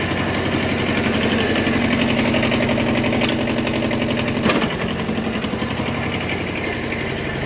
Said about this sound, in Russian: Проверим работу фрезы. Ножи, все крутится.